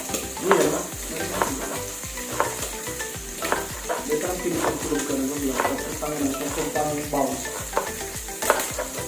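Pansit bato noodles for a Bicolano guisado fry loudly in a pan, with steady sizzling broken by frequent sharp pops and crackles and the scrape of stirring throughout.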